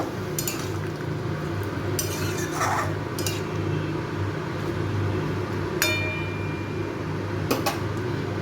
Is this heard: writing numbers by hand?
no